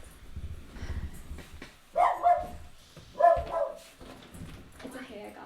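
A pet dog at feeding time gives two short, fairly loud barks a little over a second apart, with softer whines and low sounds in between.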